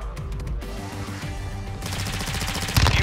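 Rapid bursts of Fennec 45 submachine gun fire from the Modern Warfare 2 video game rattle close and loud over game sound effects, building to a denser volley at the end.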